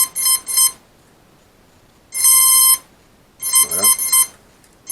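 Motor controllers on a CX20 drone fitted with an APM flight controller beeping after battery power is connected: three loud, shrill electronic beep sequences close by, separated by short silences, the last with a rising tone pattern.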